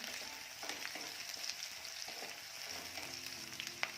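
Chillies and garlic sauté in a pan for spinach bhaji, giving a steady, moderately quiet sizzle with faint crackles and a few soft stirring clicks throughout, and no voices.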